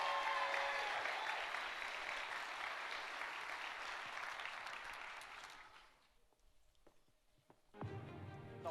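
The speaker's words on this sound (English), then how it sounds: "Let's give her one more round of applause" An audience at a 1 Million Cups gathering in Fargo applauds a performing artist, dense clapping for about six seconds before it fades out and a brief noisy burst follows.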